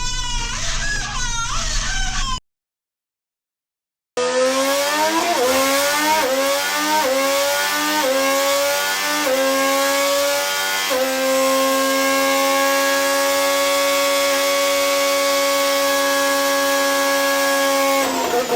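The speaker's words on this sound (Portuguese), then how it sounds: "A Honda mostrou hoje ao mundo o ronco do que será seu motor de 2026, que empurrará o carro da Aston Martin." Honda's 2026 Formula 1 engine, a 1.6-litre turbo hybrid V6, revs hard through a run of rising upshifts and falling downshifts, loud and close, with a brief silent gap early on.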